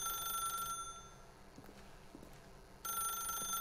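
A telephone rings in The Stanley Parable video game, a steady electronic trill that sounds twice, once at the start and again after a short quiet gap, loud and close with faint background tones between.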